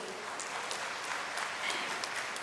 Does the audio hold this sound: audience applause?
yes